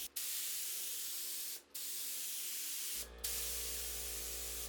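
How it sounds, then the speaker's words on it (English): A paint spray gun hisses steadily as it coats furniture, loud and close, with three short breaks where the trigger is released before spraying resumes, joined after the third by a low motor hum. "when painting the inside of furniture, using a spray gun is so much easier"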